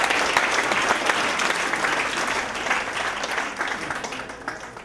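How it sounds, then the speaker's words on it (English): A comedy club crowd at the Hollywood Improv gives comedians a round of applause: loud, dense clapping that starts strong, then gradually thins and fades over several seconds. "Give them a round of applause if you would for every comic you saw so far tonight."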